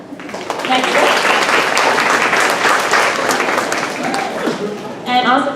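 Audience applause at a school STEM Students of the Month ceremony, a sustained, dense wash of clapping from a crowd that fades slightly near the end, with a voice speaking faintly underneath.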